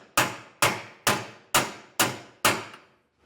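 A hammer strikes bolts to seat them while installing MORryde ALLTREK 4000 shock-absorbing equalizers on a 2023 Venture RV axle. Six loud, ringing metallic blows land at a steady pace, each decaying before the next, with no talking.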